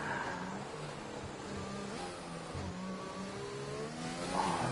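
Formula 1 race car in a video game on a hot lap around Monza, its engine droning steadily at mid distance, pitch shifting gently as it runs, with a louder surge near the end.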